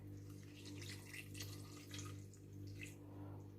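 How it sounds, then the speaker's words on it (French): White wine is poured into the bowl of a Compact Cook Pro M6 cooking machine, a soft continuous trickle and splash heard close over a steady low electrical hum. "Je vais verser mon vin blanc en surveillant."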